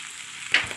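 Rice and spices sautéing in butter in a pan, a steady soft sizzle with a brief louder burst of frying partway through, close and short.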